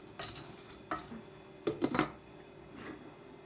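A spoon stirs sugar and jam in a metal pot over medium heat for a Brown Linzer Torte, making a few scattered scraping clinks against the pot, fairly quiet and close.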